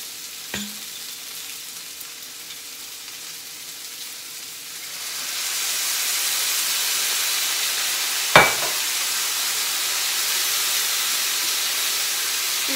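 Vinegar added to a hot pan of hoisin pineapple tofu stir fry with olive oil: a steady hiss swells into a broad sizzle after a few seconds and persists, with occasional utensil clinks against the pan.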